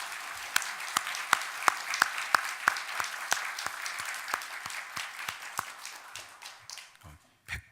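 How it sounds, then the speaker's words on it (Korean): Applause at a church worship service, with sparse, evenly spaced claps at first, a small group clapping in a steady rhythm that gradually thins and fades out by the end. "우리 하나님께 영광의 박수를 올려드리겠습니다"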